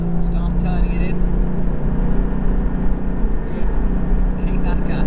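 Porsche Cayman GT4 on a track, its engine droning loud and steady from inside the cabin as it accelerates, with brief higher-pitched sounds at the start and end.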